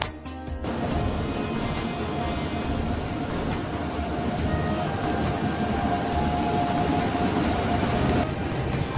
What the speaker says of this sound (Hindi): तो अभी हम ट्रेन में हैं